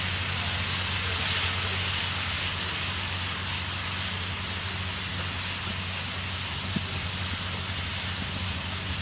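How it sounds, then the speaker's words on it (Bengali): Tempering spices hit hot oil in a pan, making a loud, continuous broadband sizzle and hiss for a Bengali hotel-style vegetarian dal. "এখানে তেল গরম হয়ে গেছে, আমি এখানে ফোড়নটা অ্যাড করে দিলাম"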